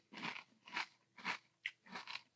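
Five separate crisp crunching bites of Friends cereal bran flakes soaked in milk, chewed close up in an even rhythm with brief quiet gaps between them, no talking.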